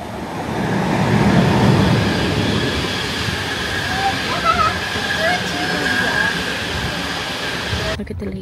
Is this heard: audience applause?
no